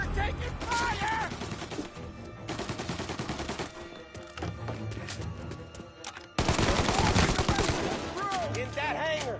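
Gunfire in the Mafia video game during a hangar shootout, with rapid bursts and overlapping shots fired in dense volleys that swell louder near the end, while voices shout underneath.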